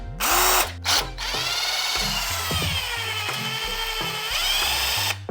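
A Ryobi cordless drill drives a screw in close, loud whirring bursts that start, pause and resume, with the motor whining steadily and ratcheting as it bites.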